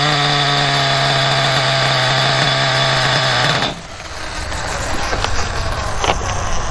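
A Losi Eight RTR nitro RC buggy engine screams at a high steady rev, close and loud, then drops abruptly to a rougher, quieter idle with faint clicks.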